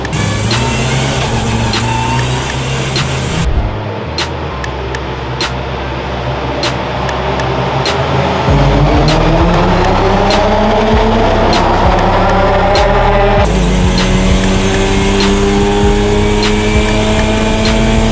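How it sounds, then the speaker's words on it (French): Race cars roar loudly off the start of the Le Mans endurance race, engines revving and shifting up in overlapping passes close by, with a brief dip in the middle before the noise swells again. "la voiture vient de partir, enfin toutes les voitures viennent de partir"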